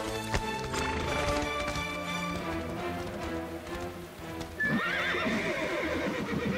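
Cartoon horses whinny and neigh close by, with hooves clopping and shuffling; a long shrill whinny rises near the end.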